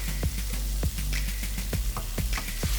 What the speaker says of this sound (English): And then I'm just going to add that boiling water to here.